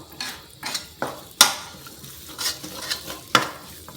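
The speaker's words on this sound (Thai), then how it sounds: "ผัดให้พริกแกงมันสุก มันหอม มีเสียงเตาแก๊สเขานิดนึงนะ" Curry paste is stir-fried in a pan over a gas stove, with a soft sizzle beneath repeated scraping strokes of a utensil against the pan at an uneven rhythm, fairly close and moderately quiet.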